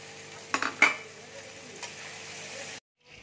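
Pumpkin and shrimp fry in a pan with a little sugar for kumro chingri bhaja. A quiet, steady sizzle is broken by a couple of sharp spatula scrapes and clinks against the pan, then a faint stirring sound near the end.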